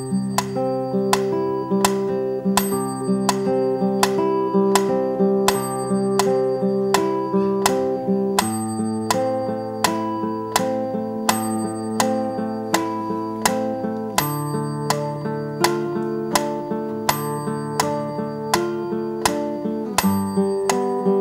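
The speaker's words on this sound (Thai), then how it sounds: "ลองให้มีเสียงกริ่งด้วยก็ได้" A bell rings in a steady, even beat, a strike about every half second, layered over sustained melodic musical tones during instrument practice. The strikes stay loud and close for the whole stretch.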